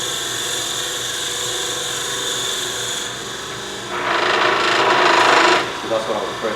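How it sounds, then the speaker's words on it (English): A brad point bit turned by hand into hard olive wood gives a steady dry scraping and rasping up close, swelling into a harsher, louder grind near the end. "Sometimes it'll let you drill by hand, sometimes it won't."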